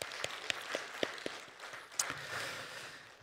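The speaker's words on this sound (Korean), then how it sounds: "우리 박수로 한번 격려해 주셨으면 좋겠습니다" Church congregation applause for the worship team, a faint, sparse patter of scattered claps with a few sharper individual slaps, quiet and distant in a large room.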